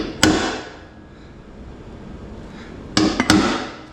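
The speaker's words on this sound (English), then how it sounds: "center punch that" A center punch struck with a hammer against a steel frame rail, marking cut points: one sharp metallic strike, then a quiet pause and a quick cluster of two or three close, loud taps.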